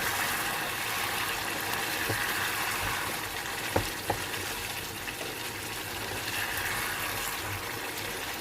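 Achari chicken masala sizzles steadily in a pan while it is stirred, a loud, continuous frying hiss with a couple of faint clicks from the spoon.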